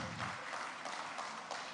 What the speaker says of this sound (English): Keep clapping till he gets here, please.